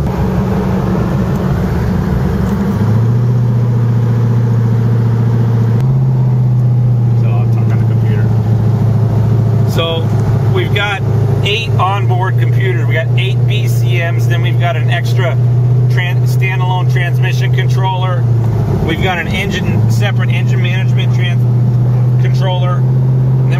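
A 1500 HP fifth-generation Chevrolet Camaro drives on the street, its engine holding a loud, steady low drone with shifts in pitch. Someone talks over it throughout.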